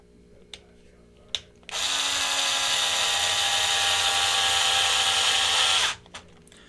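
A power driver runs 2mm screws into parts of a 1/10 scale RC race car during assembly, one steady whirring run of about four seconds between a few faint clicks, close and fairly loud.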